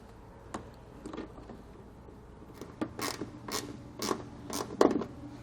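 Speed wrench running in bolts while fitting a WeatherTech mud flap on a 2018 Chevrolet Silverado, a series of close, quiet ratcheting creaks that grow more frequent and a little louder toward the end, with no talk.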